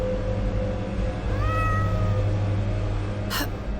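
A cat meows a few times in the video game The Excavation of Hob's Barrow, short rising-and-falling calls over a steady low hum, followed by a brief sharp noise near the end.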